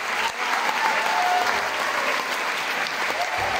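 An audience at a charity jazz concert applauds, bright, full clapping from the crowd that holds steady for several seconds, close and fairly loud.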